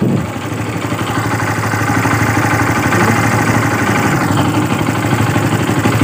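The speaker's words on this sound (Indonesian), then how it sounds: "Motor sudah saya nyalakan, didiamkan sudah beberapa menit." A Yamaha Byson motorcycle engine idles steadily after a few minutes of warm-up, a close, loud, even mechanical chug with faint clatter and no talk.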